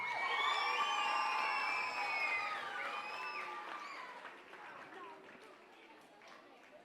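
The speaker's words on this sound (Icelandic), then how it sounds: "Ég ætla að biðja ykkur að gefa danskompani gott klapp." An audience at a school talent festival loudly cheers, whoops and claps for a children's dance company, with a strong wave of shouts that slowly fades over several seconds.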